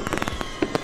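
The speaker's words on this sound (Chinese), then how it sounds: "你看到了 1001的烟火" Fireworks burst in quick irregular pops and crackles during a New Year's Eve display at Bitan in Xindian, a fairly faint, distant barrage lasting under a second.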